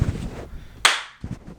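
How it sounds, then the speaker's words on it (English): A single sharp, fleshy clap made with butt cheeks, one loud slap standing alone, preceded by a low mumble and followed by a short thud. "Imagine I clap with my cheeks."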